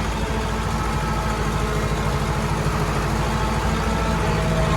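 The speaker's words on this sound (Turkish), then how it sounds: "Diğer traktörümüzde yanımızdan geçmekte." A farm tractor drives past close by on a field being prepared, its steady diesel engine rumble loud and continuous throughout, with no talking.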